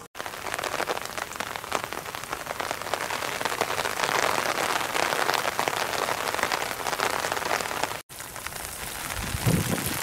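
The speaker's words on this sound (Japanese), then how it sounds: "雨が降るから傘を差しました。" Steady rain patters on surfaces along an island coast in Hiroshima, likely striking an open umbrella, a dense, even hiss that carries on nearly unbroken apart from one short cut.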